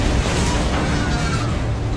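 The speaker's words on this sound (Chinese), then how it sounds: "洛丽最后在电梯里装上一颗定时炸弹，然后跳出电梯间，眼看就要爆炸了。" A time bomb goes off in a sci-fi action movie, producing a dense, loud, rumbling blast that fills the whole moment.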